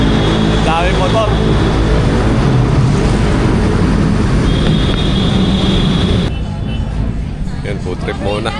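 Loud, dense traffic roar from many motorcycles on a busy, crowded street, a steady engine wash with passing whines and a horn-like tone, voices of the crowd mixed in before the din drops away near the end.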